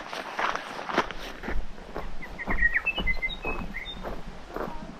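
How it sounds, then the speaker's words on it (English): Bright, chirpy calls from a young yellow bird on the snowy Routeburn Track near Lake Mackenzie, scattered short high notes over crunching footsteps and outdoor ambience, moderately close. "it's not a Tui, it's a young yellow bird"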